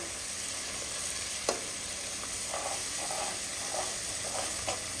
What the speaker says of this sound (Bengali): মশলাটা প্রায় ভাজা ভাজা হয়ে গেছে। এবার একটু ভালো করে নেড়ে চেড়ে দিতে হবে।